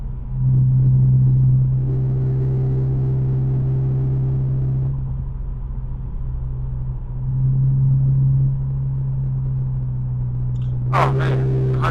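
Steady low engine rumble and road drone inside a moving car, loud and continuous with slight swells in pitch, with a brief clatter near the end and no talking.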